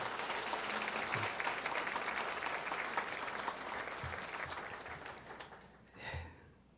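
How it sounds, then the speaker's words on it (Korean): A church congregation applauds a volunteer, with soft, even clapping spread across the room. It carries on steadily, thins toward the end, and is followed by a brief murmur. "좋은 힘이 되어줘서 감사하고 박수 한번 해 주시기 바랍니다"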